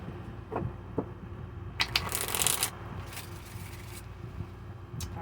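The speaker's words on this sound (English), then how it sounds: "I'm just going to keep shuffling until they feel good." Tarot cards being shuffled in quick riffling bursts, a louder flurry in the middle, with soft handling rustles around it.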